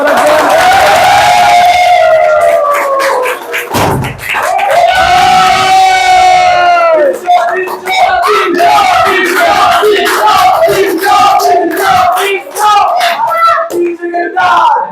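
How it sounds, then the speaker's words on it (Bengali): A crowd cheers and shouts loudly and continuously, with bursts of clapping mixed into the excited din, at a cake-cutting celebration in a motorbike showroom. "তালি কই তালি কই তালি"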